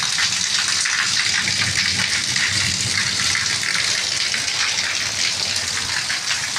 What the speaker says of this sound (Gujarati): આખું ફૂલ ધોધમાર વરસાદ આવી રહ્યો છે.